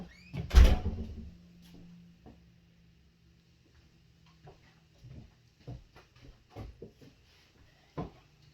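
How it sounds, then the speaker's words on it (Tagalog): A door blown open by the wind gives a single sharp thud near the start, followed by scattered faint knocks and creaks in an otherwise quiet room. "Hindi nasarang mabuti ang ating door. Eh, nag-open siya pag nahangin."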